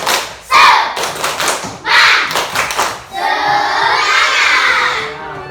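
Schoolchildren in a classroom perform a rhythmic clapping cheer, bursts of synchronized claps and thumps punctuated by loud group shouts, ending in a sustained chorus of cheering voices.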